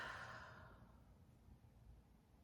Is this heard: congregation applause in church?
no